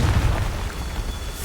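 A Confringo blasting spell goes off in Hogwarts Legacy, a heavy low boom up front that quickly fades into a rumbling, crackling tail, loud and close with no talk over it.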